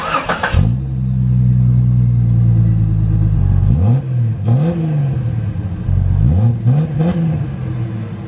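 A Jeep Cherokee engine with a MagnaFlow exhaust cranks and catches, then idles with a deep, throaty exhaust rumble before being revved several times in rising and falling bursts.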